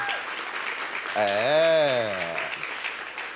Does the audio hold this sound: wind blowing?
no